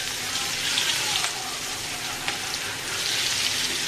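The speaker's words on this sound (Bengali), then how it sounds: "এই তেলে আমি এখন পেঁয়াজ ছেড়ে দিব" Sliced onions sizzle in hot oil in a pan for a prawn and potato dish, a loud steady frying hiss with a couple of brief crackles.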